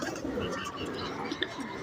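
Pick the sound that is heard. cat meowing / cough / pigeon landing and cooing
pigeon landing and cooing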